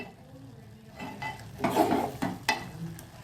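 Val beans sauté in a pan while being stirred, a soft sizzle building into close scraping strokes and a couple of sharp utensil taps against the pan.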